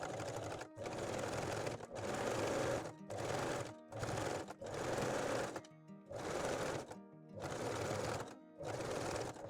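Sewing machine stitching elastic along a bra underarm, running in repeated steady bursts of roughly a second each, separated by brief pauses, loud and close with no talk.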